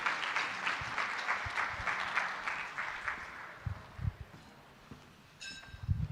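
A gala audience claps together as someone is invited to the stage, moderate in volume and fairly distant, tapering off into scattered claps and thumps of movement.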